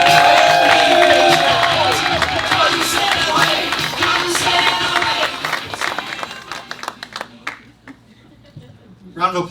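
A crowd at a birthday comedy show cheers and applauds a comedian being introduced, loud and dense at first, then thinning into scattered claps and shouts with talk mixed in.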